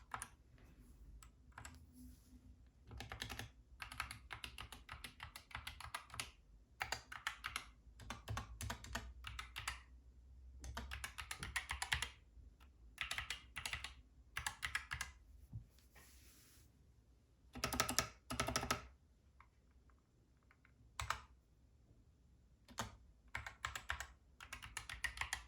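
Typing on a GK61 keyboard with Gateron optical yellow switches produces bursts of rapid keystroke clatter, close and crisp, in uneven runs separated by short pauses, with no voices.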